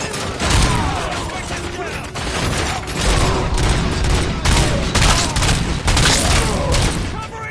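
Gunfire in the video game RoboCop: Rogue City, loud sustained volleys of rapid shots with mechanical clatter and booming impacts, nearly continuous with brief lulls.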